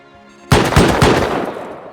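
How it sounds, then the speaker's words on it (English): A base turret in the survival game Rust opens fire with a sudden loud burst of rapid automatic shots that hammer three or four times and then trail off into echo. "Turret's hitting someone."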